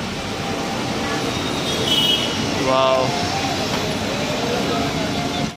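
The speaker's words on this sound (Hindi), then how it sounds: "ये होती है मोनोरेल।" A Mumbai monorail train passes on its elevated track, a steady rumble with a brief rising whine over street traffic noise, while a voice exclaims once.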